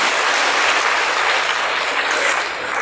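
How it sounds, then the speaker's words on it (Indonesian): Steady, dense audience applause at a women's creative-work event, a continuous bright roar of many hands with no pauses. "Tepuk tangan dulu dong buat cewek-cewek zaman now."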